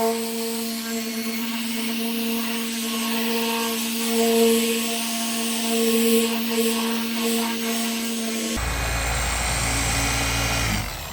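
A variable-speed polisher works automotive paint sun-faded over 13 years, giving a steady, loud, close motor whine that rises and falls a little in pitch before an abrupt change near the end, with no talking.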